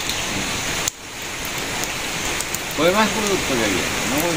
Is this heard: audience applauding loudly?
no